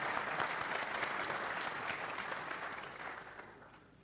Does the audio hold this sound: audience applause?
yes